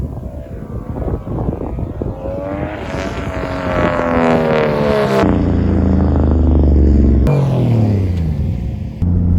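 A turbocharged Mercedes M104 engine, heard from the engine bay, revs hard and builds boost while reversing, its rising whining tone climbing loud and close before breaking off abruptly, then surging again.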